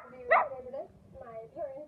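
A pet dog barks once sharply, then lets out a couple of softer whining yips, close and fairly quiet in an indoor room.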